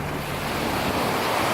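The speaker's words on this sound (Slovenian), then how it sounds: "Atlantski ocean" Atlantic Ocean surf on the coast of Portugal washes in a steady, loud roar, with wind buffeting the microphone throughout and no voices.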